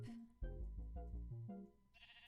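A sheep in a video game bleats in a short, wavering run of several close, fairly loud calls, with no talking.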